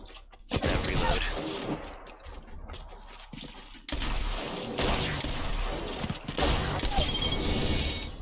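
Loud, booming gunshots in Apex Legends strike at a few separate moments. Each blast is followed by a sustained rumble of game action and mechanical clatter, with a sharp shattering crack mixed in.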